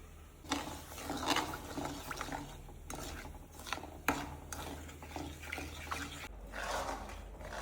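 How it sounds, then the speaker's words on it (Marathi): Semolina roasting in ghee for sheera prasad is stirred with a spoon, giving close, uneven scraping and soft shuffling strokes against the pan that repeat throughout. "तुपामध्ये परत रवा भाजून घेऊ"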